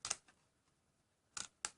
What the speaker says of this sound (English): So you just use the tips of your scissors and just